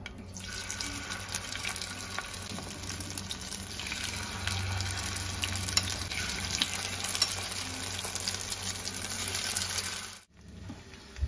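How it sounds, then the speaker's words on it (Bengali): Spoonfuls of egg and prawn pancake batter frying in hot white oil in a pan give a steady, close crackling sizzle that carries on for several seconds, then briefly drops out near the end. "এবার আমি এগুলো প্যানকেকের মতন ছোট ছোট করে একটু ফ্রাই করে নেব।"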